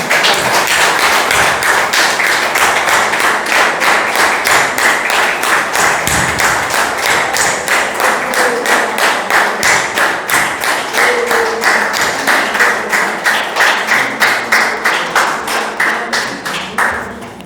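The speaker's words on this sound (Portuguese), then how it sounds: "Então eu senti uma vontade enorme da igreja aplaudir ao Senhor." A church congregation claps together in a loud, steady rhythmic beat during a Sunday service, the even claps continuing throughout before fading slightly at the end.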